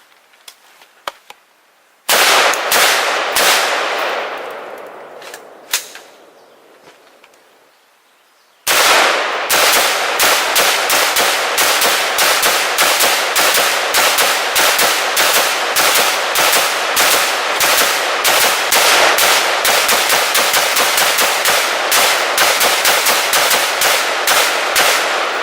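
Close, very loud rifle fire with NATO .223 full metal jacket and armor-piercing rounds shot at a ballistic barrier: a few single shots, then one long rapid string of sharp cracks with a ringing pause between.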